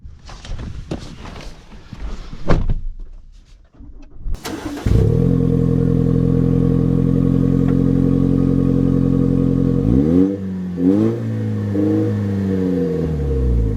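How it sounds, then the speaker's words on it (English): A 2024 Toyota Tacoma Limited pickup starts up after some handling noises, settling into a steady, loud engine drone before revving and pulling away with rising and falling engine tones. "So, setting off in the new Tacoma."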